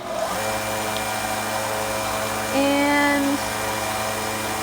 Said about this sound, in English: Back over to the secondary sander.